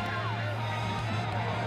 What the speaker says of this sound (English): The tomahawk chop.